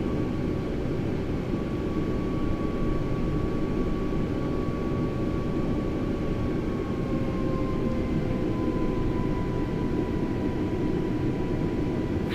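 Steady, loud roar of a SpiceJet airliner on takeoff from runway 27, a constant engine drone with a slowly falling whine heard from inside the aircraft.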